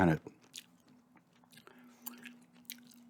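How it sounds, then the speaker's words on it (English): Gum being chewed close to the microphone in a quiet ASMR setting, soft wet clicks and smacks at an irregular pace over a faint low hum, with no clear talk over them. "Doing a gum chewing spy video game collection vid here today"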